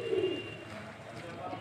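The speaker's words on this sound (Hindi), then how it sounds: "अच्छे कबूतर हैं, खूबसूरत कबूतर हैं, मद्रासी भी हैं, देसी भी हैं।" Pigeons of Madrasi and desi breeds coo softly in a loft housing several hundred birds, low murmuring calls blending with a faint background voice.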